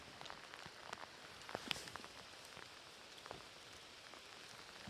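Rain pattering on a surface outdoors beside the Nemunas river during autumn pike spinning, a steady soft hiss with scattered drop ticks, moderately faint and continuous throughout.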